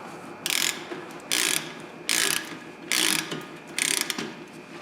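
A ratchet snugs down a bolt on the rear brakes of a 2007 Toyota Camry, giving five quick clicking bursts in an even rhythm, close and fairly loud, with no talking.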